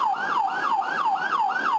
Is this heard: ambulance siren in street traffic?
yes